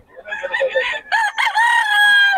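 A young gamecock stag crows up close, loud and alone, with a short clucking lead-in before a drawn-out, strained crow.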